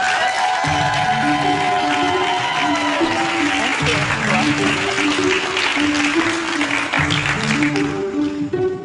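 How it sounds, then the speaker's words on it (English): A crowd claps steadily throughout, warm continuous applause with a few scattered voices and music playing underneath. "So you all give her a round of applause as she comes up here."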